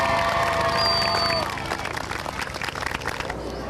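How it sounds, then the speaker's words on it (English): An elementary school audience applauds at a 20th-anniversary celebration for Webb Elementary, with a steady burst of clapping and crowd noise. A sustained musical or whistle-like tone runs over the start, and the applause roughens and thins toward the end. "If you will give him a round of applause"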